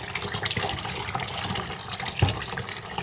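Food bought from the market is rinsed under a running kitchen tap, with water splashing steadily and close by, without speech.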